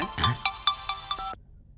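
A phone ringtone plays in a Tamil film scene as a quick series of about six bright electronic chirps. The rapid rhythm ends abruptly, and no talk is heard over it.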